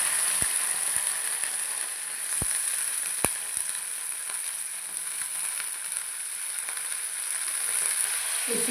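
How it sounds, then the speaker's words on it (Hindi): Spices with asafoetida sizzle in hot oil for a tadka, a steady crackling hiss with a few sharp pops scattered throughout. "थोड़ी सी डालूंगी मैं इसमें हींग, और बस इसी का तड़का लगाने वाली हूँ मैं।"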